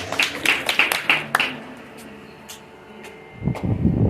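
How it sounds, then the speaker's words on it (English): A temple satsang audience claps in a short burst of sharp, close hand-claps that thins out within about a second and a half, leaving a quiet room with a few scattered claps before murmuring and shuffling rise near the end. "give them a big round of applause"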